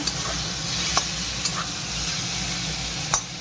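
Diced potatoes and spices for green-onion ghugni sizzle steadily in a pan, a constant frying hiss with a few faint clinks and stirring taps scattered through it, close by and alone with no voices.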